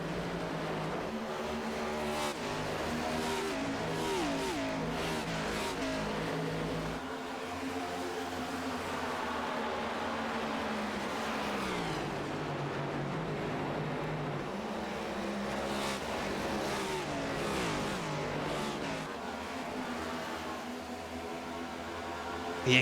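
Stock cars in an ARCS Darkside Mustangs A2 Cup Series race at the Southern 250 roar around the track at night, a steady, loud engine drone with cars passing and revving, continuous throughout.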